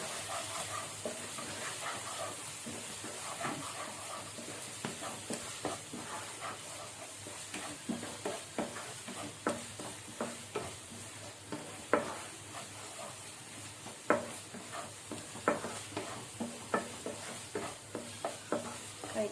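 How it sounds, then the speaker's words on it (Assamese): Spices such as cumin and coriander powder frying in oil for a jackfruit seed curry, with steady sizzling and repeated sharp scrapes and clinks of stirring throughout, close and moderately loud, no talk. "ধুনীয়াকৈ ভাজি ল'ম, কালাৰটো উঠালৈকে ধুনীয়াকৈ ভাজি ল'ম।"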